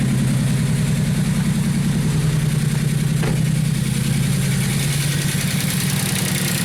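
VW Polo 1.2 AZQ engine idling roughly while misfiring on only two cylinders, a steady loud uneven drone with a lumpy low pulse, close by and continuous.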